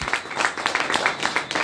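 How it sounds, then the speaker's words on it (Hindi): Audience applause at a business seminar celebrating a direct-selling company's award: a brief burst of brisk, dense clapping from a crowd, fairly close and steady. "जोरदार तालियां।"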